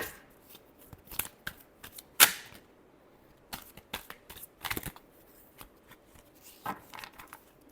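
Tarot cards are shuffled by hand in quick, crisp bursts of riffling and snapping, with one sharp louder flick and short pauses between irregular clusters, close and alone.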